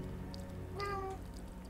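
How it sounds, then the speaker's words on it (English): Laser-eyed cats meow in the video game Guts and Glory, a short faint tonal meow rising and falling near the middle, over a steady low background hum. "Those cats with laser eyes."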